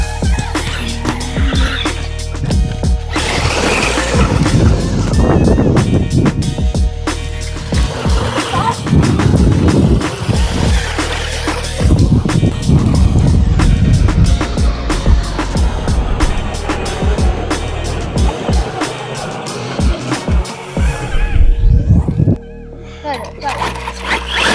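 An RC car driving over rough, stony terrain, with loud bursts of motor whine and crunching wheels against gravel and rock, while someone talks excitedly over the driving.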